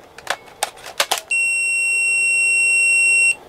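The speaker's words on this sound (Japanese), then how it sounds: "この P の音にも特徴があって、初期型のビジュアルメモリだと、" An early-model Dreamcast Visual Memory unit gives a long, loud, steady electronic beep lasting about two seconds, preceded by a few faint clicks and taps from handling the controller.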